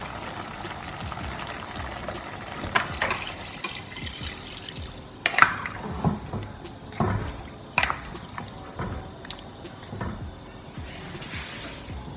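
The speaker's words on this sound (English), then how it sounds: "Right, time to add the water." Water is poured into a pot of stew chicken made by the burned sugar method, with a soft, steady sizzle and bubbling under scattered clinks and knocks of utensils, fairly faint and close.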